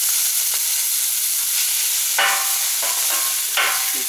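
Chicken brats sizzle on a Camp Chef FTG600 flat top grill, a loud, steady hiss interrupted by a few scraping stirs of a spatula, with no talking.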